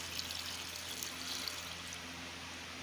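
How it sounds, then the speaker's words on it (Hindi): Water pours steadily into a cooking pot of spices for shami, a soft, even, continuous stream with a faint splashing hiss throughout, fairly quiet and with no talking. "ये मैंने पानी डाल दिया है इसमें।"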